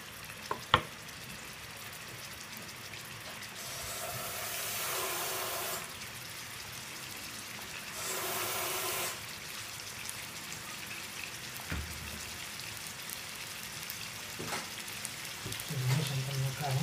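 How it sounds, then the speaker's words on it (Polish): Meat frying in a pan while spaghetti is cooked, a steady soft sizzle with two louder hissing bursts and occasional clinks of utensils, no speech over it. "I smażymy mięsko sobie tu na patelni."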